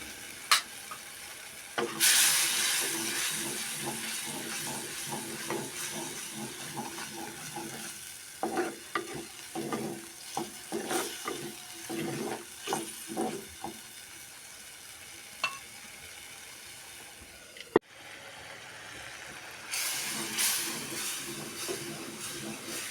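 Grated jaggery goes into a simmering ginger-tamarind curry, with a soft ongoing sizzle broken by a run of spoon scrapes and stirring clatters, one sharp knock near the end, then the bubbling hiss resumes.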